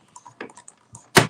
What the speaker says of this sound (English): we're going to run it through till we hear a click